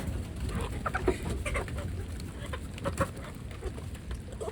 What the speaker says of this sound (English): As you can see, this is a rooster.